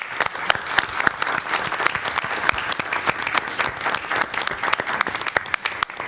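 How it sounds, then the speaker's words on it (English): An audience at a policy roundtable on spinal muscular atrophy gives a sustained round of applause, brisk clapping from many hands that stays loud and even throughout. "Can we give them a round of applause?"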